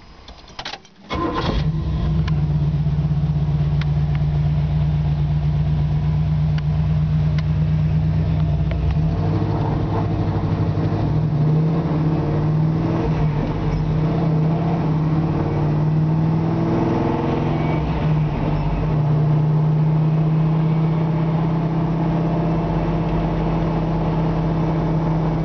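A 1973 Camaro Z28 with an upgraded drivetrain and Muncie 4-speed starts with a sharp burst, settles into a steady loud burble, then rises in pitch and pulls away in gear, heard close throughout.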